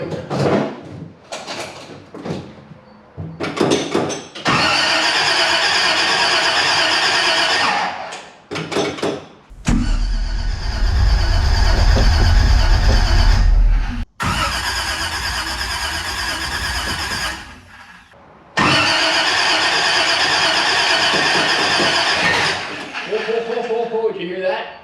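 A high-revving 327 small-block Chevy V8 in a split-window build turns over with repeated bursts of loud, harsh cranking and running noise broken by short gaps. A sharp squeal and clatter are heard nearby.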